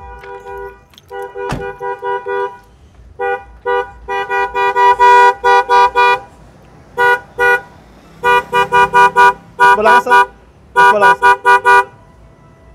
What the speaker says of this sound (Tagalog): So, ayos na yung busina.